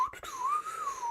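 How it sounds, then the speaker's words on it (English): A person whistles a short, wavering tune close by after a couple of quick breathy starts, soft and alone. "Walks off whistling"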